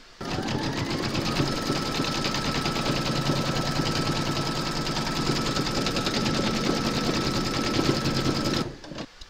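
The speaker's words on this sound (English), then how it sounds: "Pop your hoop into your machine and stitch round number 3 to secure it." An embroidery machine stitches an appliqué in a hoop, giving a fast, even, mechanical chatter that runs continuously for about eight seconds and then stops abruptly.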